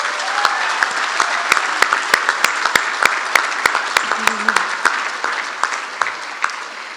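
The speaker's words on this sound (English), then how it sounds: "Let's give another round of applause for all of our honorees." A crowd applauds award honorees at the Love Impact Awards ceremony, sustained clapping at a strong, even level with sharp individual claps standing out in an irregular rhythm from start to finish.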